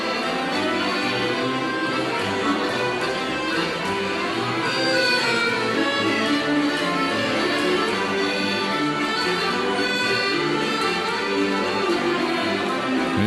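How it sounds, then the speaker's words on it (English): Buskers perform in the marketplace of Padua, Italy, their dense, continuous music filling the outdoor square at a steady, fairly loud level amid ambient crowd noise. "here is the sound of some buskers in the marketplace of Padua"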